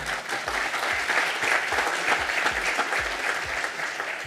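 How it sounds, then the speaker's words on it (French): Steady audience applause for a speaker at a session, a continuous even wash of many hands clapping at moderate volume throughout. "n'hésitez pas à l'applaudir"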